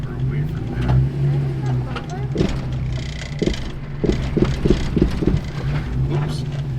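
An off-road vehicle engine rumbles and revs while maneuvering with a front dig away from a rock, a low steady drone with a few sharp knocks and crunches of rock and tires near the end.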